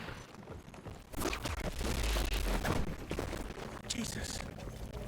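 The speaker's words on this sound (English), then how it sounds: "you're shooting with a rifle and it's like doing no damage" Rifle fire rings out in the Wild West vampire action game Evil West, a loud burst of shots and impacts amid busy combat noise, with someone talking over the action.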